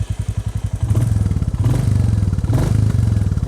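A Royal Enfield Classic 350 single-cylinder motorcycle engine thumps at idle with a steady, loud, close pulsing beat, rising slightly in pace with a few revs.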